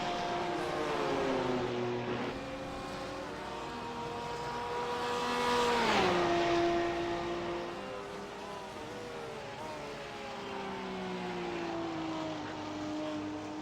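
Porsche GT3 race cars lapping Lime Rock during a GT3 season opener: engine note rises as a car closes in, peaks with a sharp pitch drop as it passes near, then fades, with further engines droning in the distance.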